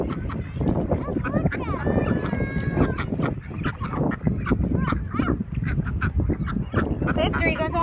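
Ducks and geese quack and honk busily at CJ Kelly Park during feeding, close and continuous, while people talk over them throughout.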